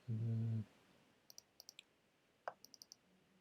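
Several sharp computer mouse clicks, spaced apart then in a quick burst of four, close and clear after a brief low hum at the start, with no talking.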